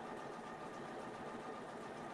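A sewing machine runs at a steady, continuous whir with a fine rapid mechanical rattle, evenly loud throughout with no pauses or voices.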